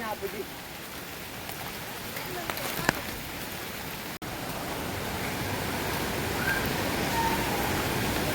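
A continuous broad roar of Ermayi Falls waterfall in rain, loud and unbroken, with occasional faint voices.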